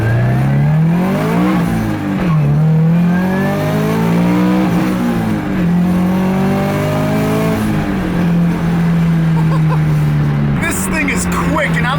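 A tuned, turbocharged Subaru FRS running on E85 fuel pulls hard under acceleration. The engine's loud, continuous drone climbs through several gears with brief dips at each shift, then drops off near the end.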